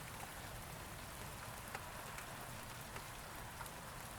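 Steady rain falls on a surface, a continuous soft hiss with occasional distinct drops ticking through, quiet and constant with no voices.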